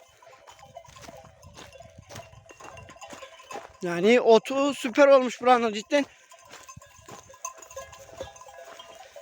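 Sheep graze in a village pasture in spring. Bells clink softly and scattered, with faint bleats and hoof sounds outdoors, and someone speaks briefly midway through.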